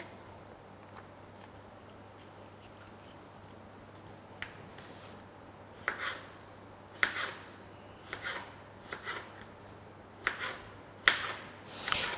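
Thin slices cut from a cucumber with the seeds scraped out, heard as sparse, soft knife taps and scrapes that grow more frequent, quiet and close in a calm kitchen.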